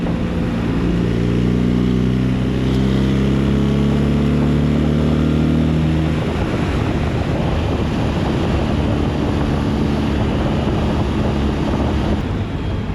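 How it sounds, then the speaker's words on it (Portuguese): A BMW R1300 RT motorcycle on the road, with a loud, continuous roar of engine and wind rush. A steady engine hum holds for the first half, then gives way to broad buffeting wind noise. "ouve-se um bocado o barulho da moto"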